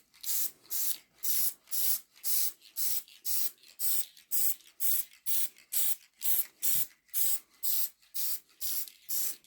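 Paint sprayed from a can onto model railway rails in short, evenly spaced bursts of sharp hissing, about sixteen blasts in a steady rhythm with brief pauses between, close and clear with no talk.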